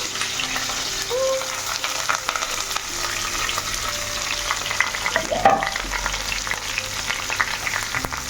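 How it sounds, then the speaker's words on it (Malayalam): Onions frying in a pan of oil and ghee while being stirred, a steady close sizzle with scraping stir strokes throughout, no talk. "ഇനി നന്നായിട്ട് വഴറ്റി നല്ല ബ്രൗൺ കളർ ആവുന്ന വരെ നമുക്ക് വഴറ്റി കൊടുക്കാം"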